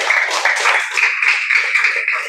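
A small group claps for a discussion team during a class session, a steady patter of close, bright handclaps with no talking over it.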